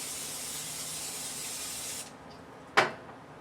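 Cooking spray hisses steadily into a pan for about two seconds, stops, then one short sharp burst of spray follows.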